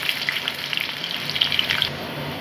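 Potatoes fry in oil for a chicken curry, a dense, crackly sizzle that stays steady and close, with no voices over it.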